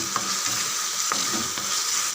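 Tomato and ginger-garlic paste being stirred and mashed in a frying pan, with steady sizzling broken by several scraping strokes of the spoon, close up and with no voices.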